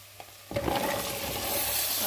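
Onions frying in a pan for a Turkish dried-bean and meat stew, a steady close sizzle breaking in suddenly with scraping stir strokes, then settling into a loud continuous hiss.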